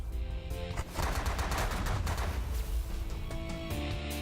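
An energy beam weapon fires in The Last Federation, producing a steady, loud stream of rapid crackling pulses that carries on continuously across the whole stretch.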